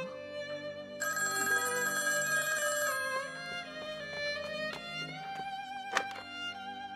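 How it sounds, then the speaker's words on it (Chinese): A telephone rings indoors at night, a steady electronic ring with bright harmonic tones, followed by a shorter trilling pattern and a few sharp clicks, with no talk over it. "大小姐，你的电话。"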